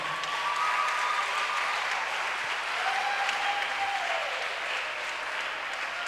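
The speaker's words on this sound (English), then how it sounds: "Clap for them." A crowd claps steadily for several seconds, a dense, even wash of applause with no break.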